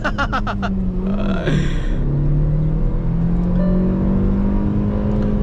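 A Hyundai Verna Turbo with a manual gearbox launches in sports mode with wheel spin, its engine revving hard and rising in pitch from close by. A few sharp rhythmic knocks come just before the launch, and a loud whir follows.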